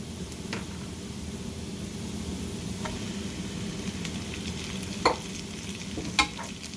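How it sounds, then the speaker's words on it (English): Bacon being stirred into browned breakfast hash in a hot pan, a low steady sizzle with a few faint spatula scrapes and taps, no talk. "And stir through to mix well."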